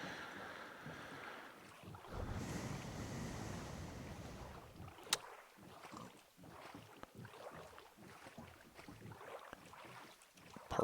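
A boat moves over water in Minecraft Java 1.17.1 hardcore survival, with a rushing splashy wash, soft wind-like swells and scattered light tapping and clicks from gameplay.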